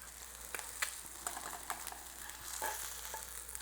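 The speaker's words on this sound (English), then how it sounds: "right now I'm going to turn over the eggs" Eggs fry in a pan for breakfast sandwiches, giving a soft, steady sizzle with scattered light crackles and pops, quiet and close, with no one speaking.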